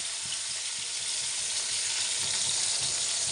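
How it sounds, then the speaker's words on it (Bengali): Rui fish fries in hot oil in a kadai, giving a close, continuous crackling sizzle with light stirring scrapes. It is steady throughout, with no voices. "কড়াইতে অল্প অল্প করে দিয়ে ভাজতে হবে।"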